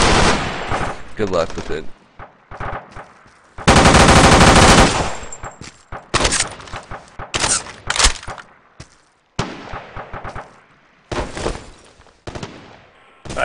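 Loud bursts of SAW machine gun fire in a video game, with rapid sustained volleys and scattered shorter gunshots, while players talk briefly between shots.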